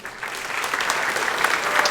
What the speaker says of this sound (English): Please join us in giving one more round of applause to our outstanding top